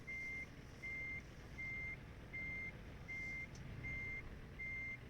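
Truck reversing alarm in American Truck Simulator, a regular series of seven even beeps over a low engine rumble, fairly quiet and with no talking.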